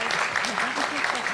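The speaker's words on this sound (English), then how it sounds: "Let's give all our panelists a round of applause for the great work." An audience at a public schools forum claps for a panel in a brief, steady burst of applause, with a voice talking over it.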